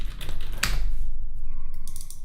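Keystrokes on a computer keyboard during design work in Adobe XD, a short burst of a few close taps over a steady background hum.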